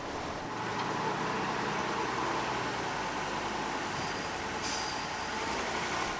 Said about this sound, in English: the truck finally pulls away